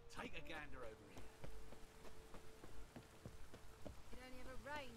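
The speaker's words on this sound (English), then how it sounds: "It only ever rains these days." Steady rain patters over the open world of The Witcher 3: Wild Hunt, a dense wash of falling drops with sharper drip ticks, running under in-game character talk throughout.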